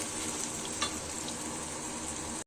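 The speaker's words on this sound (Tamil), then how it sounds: "சேனக்கிழங்க இப்போ எண்ணெயில் ரெண்டு தடவையோ பொறிச்சு எடுத்துக்கலாம்" A steady, dense sizzle of elephant foot yam frying in hot oil, constant and close, with faint crackles popping through.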